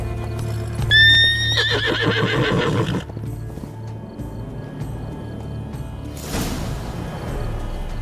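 Roach, the horse in The Witcher 3: Blood and Wine, gives a loud close whinny early on, followed by clip-clopping hooves and a rustling whoosh later over a steady low ambient hum.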